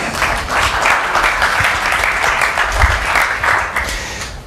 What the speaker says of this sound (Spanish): otro aplauso para las presentes